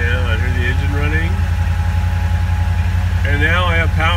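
A DeLorean car engine idles with a steady low rumble while a person speaks briefly over it at the start and end.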